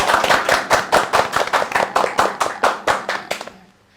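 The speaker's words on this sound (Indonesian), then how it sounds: "Tepuk tangan." Roughly a dozen sharp hand claps land in a brisk, even rhythm from a small group nearby, then fade out over the last half second.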